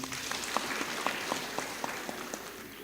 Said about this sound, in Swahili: Tupigie Elda makofi.